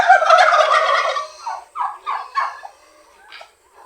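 Several turkeys gobble loudly and close by in a backyard flock, a dense burst of rattling gobbles followed by shorter separate calls that fade out.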